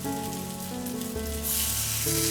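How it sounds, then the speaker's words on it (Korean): Potato pancake batter ladled into an old frying pan over high heat, a close, loud sizzle that swells and brightens near the end, with a low steady hum beneath. "프라이팬 뜨거운 센불에 뜨거운 센불입니다. 센불에 한 국자씩 넣어주고요."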